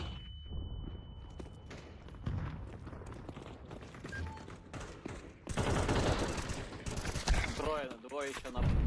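A Tec-9 fires in rapid bursts during video game play, the shots dense and overlapping in the second half, with a player talking over the gunfire.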